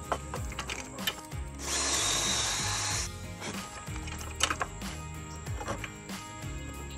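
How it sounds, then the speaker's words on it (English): A power drill with a stout bit enlarging holes in a piece of wood, one sustained whirring burst of boring in the middle framed by quieter mechanical clicks and rattles, close and fairly faint. "I then enlarged the holes on the back side of the piece of wood using a stout bit"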